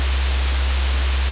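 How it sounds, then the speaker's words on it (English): A loud, low steady sine tone hums beneath a bright, continuous hiss of white noise, both unchanging until a sudden cutoff. "So just the sine wave and the white noise sounds like this."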